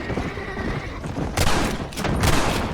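Gunfire in Red Dead Redemption on Xbox 360: two loud, sharp bursts about a second apart, mixed with a horse neighing and hooves in the game's soundscape.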